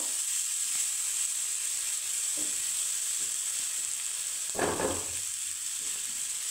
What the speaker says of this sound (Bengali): এখন আমি ভেজে নেব ফুলকপির মিশ্রণটাকে